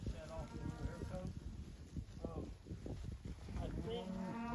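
Cattle herd out on pasture in spring, cows still carrying winter hair coats with new calves among them: repeated low moos and bellows from several animals at varying distances, steady and close, under continuous outdoor background noise.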